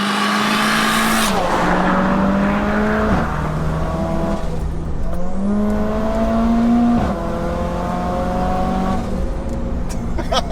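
A 630 bhp big-turbo Mercedes A45 AMG fitted with a screamer pipe accelerates hard from inside the car, engine note climbing through several gears with quick shift dips and a loud, raspy turbo whine throughout.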